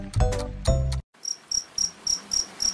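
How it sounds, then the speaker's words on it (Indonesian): After a brief louder burst of sound at the start, a cricket chirps in a steady rhythm, six or seven evenly spaced trills, close and clear. "Bunyi jangkrik dan gemercik air sungai menyambut kedamaian hati Melodi."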